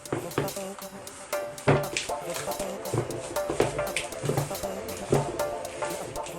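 Melted butter stirred into a mixture in a bowl, with repeated clinks and scrapes of a utensil against the bowl in an uneven rhythm, close and fairly loud.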